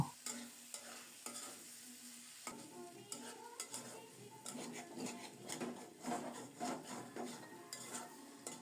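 Fish curry with chopped green chillies being stirred in a hot oily pan, with steady sizzling under repeated scraping strokes of a spoon against the pan, fairly close and continuous.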